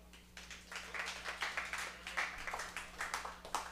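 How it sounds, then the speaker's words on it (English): A small audience at a podcast taping claps, the rhythmic patter faint and distant, holding steady for a few seconds over a low background hum. "Big round of applause for Chris."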